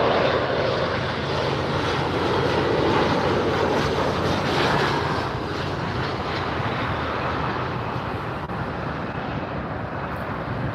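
A Delta airliner arrives at LAX, a broad loud engine roar rushing overhead with wind-like noise, strongest early and then fading slightly but staying steady throughout, with no talking.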